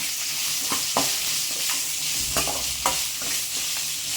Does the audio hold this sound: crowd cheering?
no